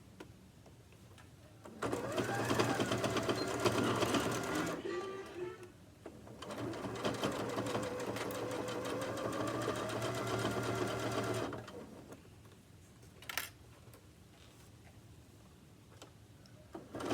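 A sewing machine stitches a fabric makeup bag along an open zip end, running in two long steady bursts of rapid mechanical whirring with a short pause between them, followed by quieter handling and a faint click.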